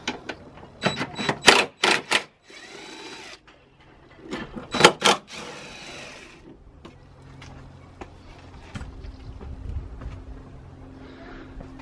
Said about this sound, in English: Now I've just got to remove these 10mm bolts.